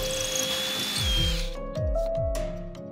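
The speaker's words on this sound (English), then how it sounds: "The holes can also be drilled for the hardware now." A power drill bores hardware holes into cherry wood cabinet parts, its motor whining loudly and close, with the pitch dropping in several repeated bursts as the bit bites into the wood.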